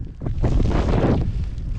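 Strong wind gusts roar and buffet the microphone during a winter mountain ascent of the Barre des Écrins at 4102 m, a steady loud rush swelling then easing over two seconds.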